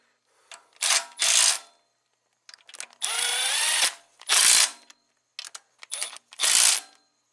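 A ratchet wrench torques Toyota Camry engine bolts during a repair, heard as several separate bursts of sharp ratcheting clicks with quiet gaps between them, close and loud, with no talking.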